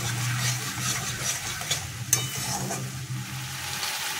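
A spice paste fries in oil with sour curd and kasuri methi added, giving a steady close sizzle with faint stirring scrapes and one brief clink.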